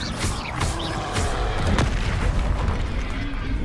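Incendio fire spell cast in Hogwarts Legacy, a series of booming, crackling bursts from combat spellcasting, several blasts in quick succession over a continuous rumbling fight texture.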